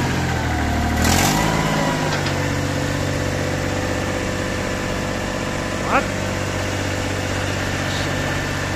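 A small Korean mini tractor engine runs steadily at idle, a constant low mechanical drone with a brief rise in the middle and a faint clunk later on.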